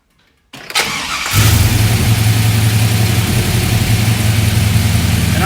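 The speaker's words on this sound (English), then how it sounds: "So I'm going to start the truck here real quick, and we're going to see if it works" A vintage truck engine cranks briefly and then catches, settling into a loud, steady, close-up idle that continues alone to the end.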